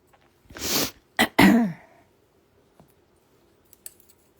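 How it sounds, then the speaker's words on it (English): A single close sneeze with a sharp breathy burst, followed by a few faint clicks in an otherwise quiet room. "Sneezing."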